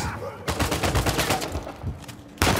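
Gunfire in the video game Uncharted 4: a rapid burst of close, loud shots that runs for about two seconds and ends with one more sharp report.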